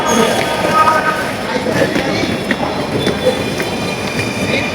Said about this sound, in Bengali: ট্রেন কিন্তু এসে গেছে।